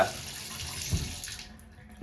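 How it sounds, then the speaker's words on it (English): Water rushes steadily down a freshly unclogged shower drain, a continuous broadband wash with a brief gurgle near the middle, close and moderately loud. "It looks like it's draining pretty quick now, huh?"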